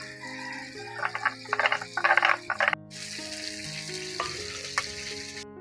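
Cumin seeds are tempered in hot oil for a potato and bitter gourd fish curry, first spitting in a few sharp popping bursts, then settling into a close, steady sizzle with occasional clicks, with no talking.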